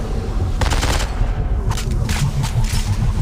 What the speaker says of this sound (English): shoot those while you're frozen